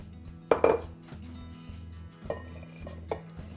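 A large mixing bowl being set down and swapped while making a sesame ginger pasta salad, giving two sharp clattering knocks of bowl on counter early on, followed by a few lighter clinks against a steady low background hum.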